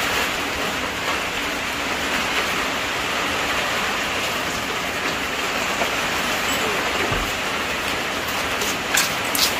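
Rain falls at night, a dense steady hiss that fills the whole stretch at fairly loud level, with a few faint knocks and clinks near the end and no voices.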